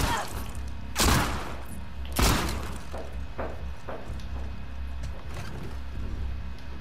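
Gunfire in the video game The Last of Us Part 2, two sharp, loud shots about a second apart followed by several softer thumps and impacts over a low steady rumble, with no talk.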